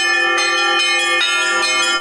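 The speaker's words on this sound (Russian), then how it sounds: "Колокольный перезвон раздается над Ульяновским селом Арское" Church bells ring at midnight over the village of Arskoye in the Ulyanovsk region, home to the region's oldest church. A loud, sustained peal fills the whole stretch, with fresh strikes every fraction of a second and no voices.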